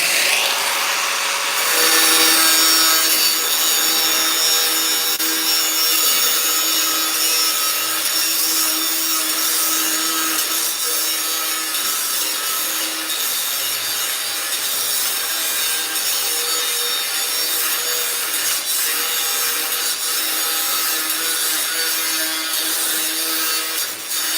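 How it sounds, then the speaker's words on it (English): An end being cut off a piece of stock while building a sliding bed rack for tools, a loud, continuous grinding rasp of a saw biting steadily through the material, close and sustained with no talking. "We'll cut this end off"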